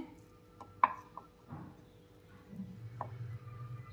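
Beet paratha dough is rolled out with a rolling pin on a floury board, giving soft, quiet thumps and a low rubbing rumble that grows steadier toward the end, with no talking.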